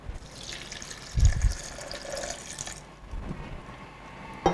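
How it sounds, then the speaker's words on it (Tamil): Water is poured into a mixer jar while making lassi or lemon mint juice: a soft trickle and splash with a brief heavier gush early on, faint and close, with no talking. "தண்ணி ஊற்றிக்கலாம்."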